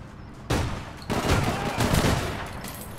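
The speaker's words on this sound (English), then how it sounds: "3 shots. Shotgun." Shotgun blasts in the online shooter APB Reloaded: a loud blast at about half a second, then a heavier burst of shots with a rumbling tail, no talking.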